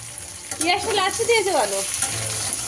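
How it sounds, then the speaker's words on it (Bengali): Taro and potato curry fries in a pan with a steady close sizzle while a voice talks over it. "আলুটা ভেজে তো রান্না করছে"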